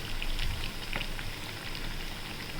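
Green gram bhajiya fry in hot oil with a dense, steady crackling sizzle and scattered sharper pops, close and continuous throughout.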